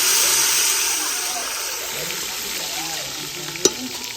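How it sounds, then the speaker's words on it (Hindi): Green chillies, tomatoes and onions hit hot ghee with a loud hiss that gradually settles into a steady sizzle, broken near the end by one sharp clank of a utensil; a voice murmurs faintly underneath. "घी जो है गर्म हो चुका है। अब इसमें हरी मिर्च टमाटर प्याज ऐड हो रहे हैं।"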